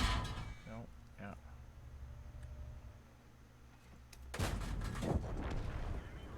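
Video game gunfire on the Ruinberg map in Topography: a few sharp shots crack out at the start, then after a quieter stretch a louder burst of shooting erupts near the end, with people talking over it.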